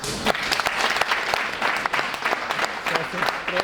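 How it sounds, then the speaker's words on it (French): A crowd at a student integration day in Senegal applauds a speaker, steady, full clapping filling the hall for several seconds with voices faintly underneath. "Ça mérite des applaudissements."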